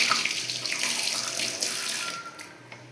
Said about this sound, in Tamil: சிங்க்கு, இது தண்ணி வரும்.